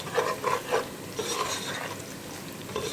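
Stirring garam masala, cumin and bay leaf in a cooking pot for matar pulao, with a spoon scraping and a few clinks against the metal over a soft sizzle. The scraping comes in short strokes and is close and fairly quiet.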